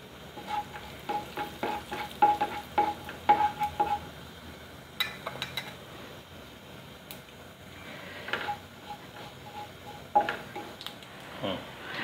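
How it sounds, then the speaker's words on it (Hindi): Cumin seeds frying in oil in a pan for a drumstick-flower curry, a steady soft sizzle under repeated clinks and scrapes of a spoon stirring against the pot, close and moderately loud. "एक चम्मच जीरा अच्छे से फ्राई करेंगे।"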